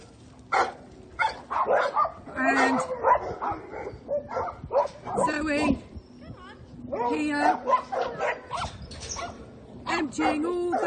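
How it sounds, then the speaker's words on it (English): Dogs bark and yip repeatedly at a dog rescue farm on a morning run-around, sharp close barks scattered across the scene while a person talks over them. "All the dogs running around"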